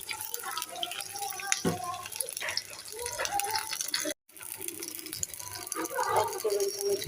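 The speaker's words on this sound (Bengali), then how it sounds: "মধ্যে সামান্য পরিমাণ পানি দিব" A small amount of water goes into a pan of browned onions with cinnamon and cloves, splashing and rattling close by with a brief gap midway.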